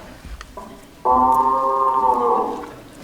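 An actor on stage in a live A Charlie Brown Christmas production imitates a cow. One loud, drawn-out vocal moo rises suddenly, holds for nearly two seconds, then fades, after a brief quieter lead-in.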